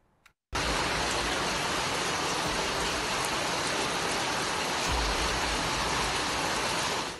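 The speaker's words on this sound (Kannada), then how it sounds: "ರಾಜ್ಯದಲ್ಲಿ ಹಲವು ಜಿಲ್ಲೆಗಳಲ್ಲಿ ಭರ್ಜರಿಯಾಗಿ ಮಳೆ ಸುರಿದಿದೆ." Heavy rain pours down in North Karnataka, a dense, loud, steady hiss that starts abruptly after a brief near-silent moment and continues unbroken to the end.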